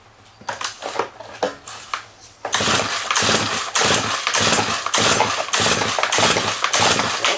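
A string trimmer engine on full choke with a primed carb is pulled over a few times with sputtering bursts, then catches and runs in a rapid, loud, pulsing rhythm close up.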